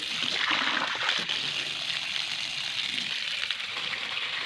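Water gushes steadily from an open supply pipe while a faucet is swapped out without shutting the valve, a loud continuous hissing spray with splashing that holds for the whole stretch.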